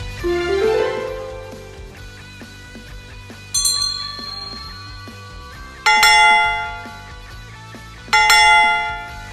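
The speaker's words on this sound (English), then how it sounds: "Let's listen to the next 3 bells." Bells ring out in separate strikes, each bright clang sustaining and slowly fading, with several distinct bell tones in sequence.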